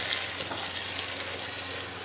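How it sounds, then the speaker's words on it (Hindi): Chopped tomatoes fry in a pan while a spoon stirs them in, making a dense, even sizzle close up with a faint scrape of the spoon throughout. "अब हम इसमें टमाटर ऐड कर लेते हैं और चम्मच की मदद से अच्छी तरह मिक्स कर लेते हैं।"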